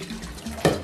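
Water poured into a cooking pot on a gas stove while making Owoh beans, a short steady splashing stream that swells briefly near the end.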